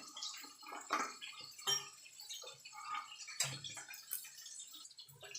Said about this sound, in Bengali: তো চলুন আমি জল থেকে বাঁধাকপিটা ছেঁকে নিই।